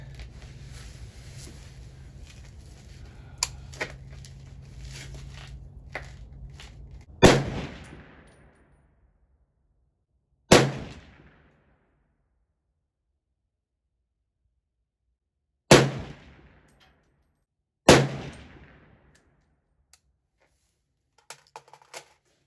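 A SIG 716i rifle fires four loud, sharp gunshots with 168-grain Sierra MatchKing handloads over Reloader 15 powder, spaced several seconds apart at an outdoor range, each crack decaying quickly, followed by a few faint clicks.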